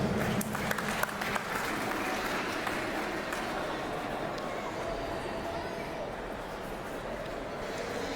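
Crowd at a table tennis team championship semifinal applauds and cheers continuously in a large hall, with steady dense clapping and some talk running underneath throughout.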